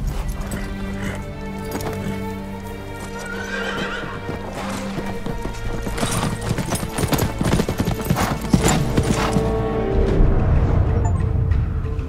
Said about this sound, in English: You have chosen the name for your horse, Nobu, meaning trust